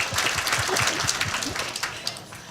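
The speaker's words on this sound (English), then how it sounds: "Applause to the first Lone Nutter." Audience applause at a Southern Conference workshop, honouring the first Lone Nutter: steady, dense clapping from a roomful of people, sustained throughout with a few sharper claps standing out, and a brief voice or cheer underneath.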